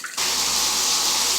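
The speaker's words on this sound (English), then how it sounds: "And the faucet already have hot water." Hot water gushing steadily from a faucet, starting abruptly after a brief quiet moment and then running loud and constant, close by.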